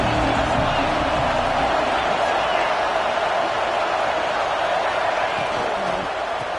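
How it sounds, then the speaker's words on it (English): Football crowd roaring steadily in a stadium during a Ducks versus Sooners game, a loud, dense and continuous wash of noise trying to rattle the offense, with a commentator talking over it. "This crowd trying to make life miserable for this offense."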